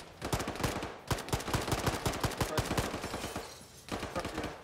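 Rapid video game gunfire in a tactical shooter, bursts of sharp repeated shots close and loud, pausing briefly near the end before another short burst.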